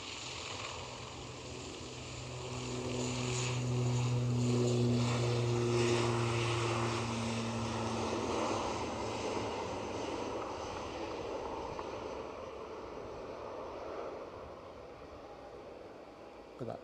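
Aer Lingus airliner departing Edinburgh Airport, a distant, moderately faint engine rumble with a steady tonal hum that swells then slowly fades, heard alone.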